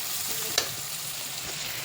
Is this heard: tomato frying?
yes